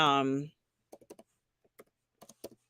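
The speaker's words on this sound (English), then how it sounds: "sorry, I'm typing." Typing on a computer keyboard during a live pop-culture show, heard as sparse, close key clicks in small irregular clusters after a short burst of speech, with quiet gaps between the taps.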